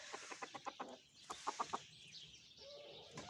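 Chickens cluck in quick rhythmic bursts, a Denizli rooster's calls among them, fairly quiet and slightly distant.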